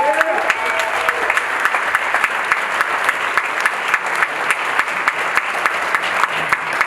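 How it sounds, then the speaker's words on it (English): Audience applause at a high school spring concert, a sustained crowd of clapping hands that fills the whole stretch at an even level with no pause. "please give them a round of applause as well"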